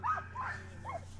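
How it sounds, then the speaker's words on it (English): Sled dogs at a summer training camp whimper and yip in short rising whines, three brief cries over a low steady hum, fairly close but faint. "These are very athletic dogs"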